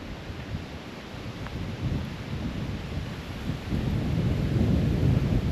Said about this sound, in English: That wind has just started picking up a little bit.